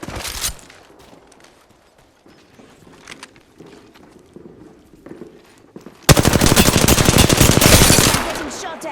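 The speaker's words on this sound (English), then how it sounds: "I'm getting shot at" Gunfire in Apex Legends: a short burst at the start, then scattered quieter shots and clatter, before loud rapid automatic fire erupts and continues for about three seconds, close and dominant.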